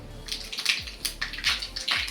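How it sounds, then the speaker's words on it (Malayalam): Mustard seeds spluttering in hot coconut oil in a pan, tempering for a banana stem pachadi: close, dense crackling with sharp bursts recurring about every half second, no voices. "കടുക് പൊട്ടുമ്പോൾ"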